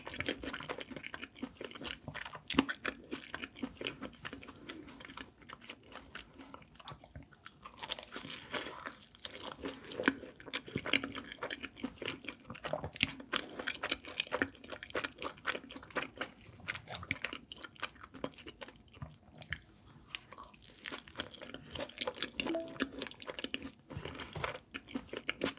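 Close, crisp chewing and biting on butter garlic pizza from Pizza School, with steady crunching and squishy mouth sounds running continuously and no talking.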